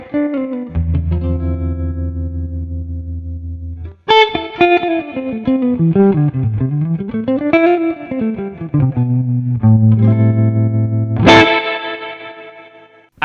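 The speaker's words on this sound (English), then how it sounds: "I've just pulled up a Fender Deluxe Reverb, and the neck pickup sounds like this." Ibanez GB10EM jazz electric guitar on the neck pickup through a Fender Deluxe Reverb amp simulator, playing a mellow melodic line with sustained notes and slides, warm amp tone with slight effects, ending on a bright higher phrase.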